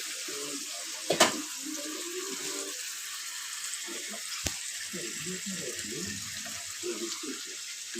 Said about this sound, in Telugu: ఈ మసాలా చికెను నేను ఇప్పుడు ఇందులో వేస్తున్నాను